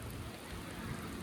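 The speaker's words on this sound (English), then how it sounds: "It's just starting to freaking rain." Rain beginning to fall outdoors, a steady broadband hiss of light rain on surfaces, continuous and fairly quiet throughout with no voices.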